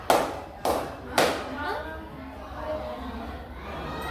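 Students in a classroom give three sharp claps on the teacher's cue, evenly spaced and close, followed by quieter room murmur and faint talk.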